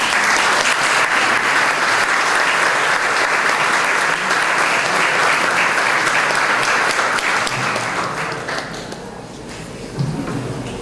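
Loud, sustained applause from a large audience at a university law lecture, welcoming a lawyer as speaker; steady dense clapping for about eight seconds, then fading with a few scattered claps at the end.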